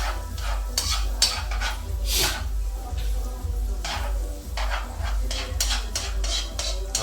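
Onions for fusilli carbonara are stirred in a pan, the utensil scraping and clinking against the metal in a rough repeating rhythm over a low steady hum, close and fairly loud.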